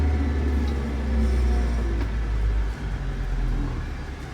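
Bobcat compact tractor diesel engine settling from a raised DPF regeneration speed back toward a steady low idle, a continuous loud rumble with a slight dip in level partway through, no voices.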